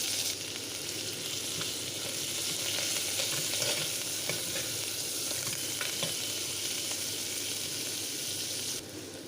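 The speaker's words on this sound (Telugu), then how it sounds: "ఉల్లిపాయలు మంచిగా మగ్గి ఎర్రగా రంగు మారేంత వరకు వేపుకోవాలి ఇందులోనే కొత్తిమీర పుదీనా కూడా వేసుకొని కలుపుకోవాలి" Onions fry with coriander and mint in a pan for egg pulao, a dense continuous sizzle with faint stirring clicks throughout, fairly loud and close with no talking.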